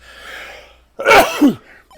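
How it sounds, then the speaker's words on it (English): A single loud sneeze bursts out after a quiet moment of breathy background, sharp and close, with a short voiced tail. "I'm going to sneeze."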